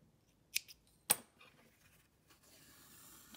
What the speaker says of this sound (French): On va couper une bonne longueur qui nous servira ensuite à le coudre à la tête.